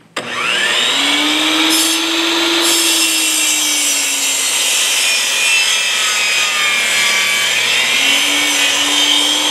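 A power saw cuts a wooden board to length on a cabin build in the western Maine mountains, a loud, steady whining drone with a slight pitch dip midway, running continuously throughout.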